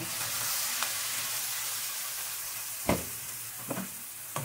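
Onion browning in a pan, giving a steady close hiss of frying with a few brief clicks of a utensil against the pan, no voices.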